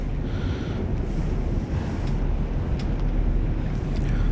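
Strong wind buffets the microphone on a seashore during squid fishing, with a continuous, loud roar and gusty rushing over the low rumble of surf, and no one speaks.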